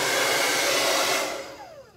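A hair dryer salvaged from a dumpster blows with a loud steady whooshing roar and a high whistle, then winds down and fades as it switches off near the end.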